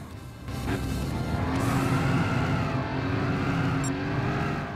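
Race car engine droning steadily at high revs with tire noise through a narrow, twisty circuit in Gran Turismo 6, a Clubman Cup race, the engine tone rising and falling as the car brakes and accelerates.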